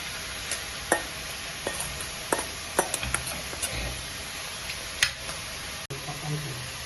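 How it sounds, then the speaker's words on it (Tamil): Prawns frying in hot oil in a pan, a low steady sizzle punctuated by scattered clicks and scrapes of stirring, close by and fairly quiet. "இறாவை வறுத்துப்போம்."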